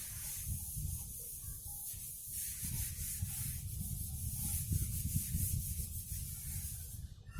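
Someone scrubs an eraser back and forth to rub out written numbers, giving a continuous soft scratching and rubbing texture throughout, close and fairly quiet, with no speech.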